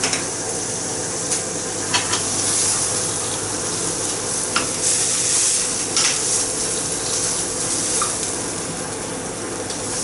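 Duck breast frying skin-side down in a pan, its fat rendering out with a steady crackling sizzle and occasional sharper spits and pops, close and fairly loud, with no talking over it.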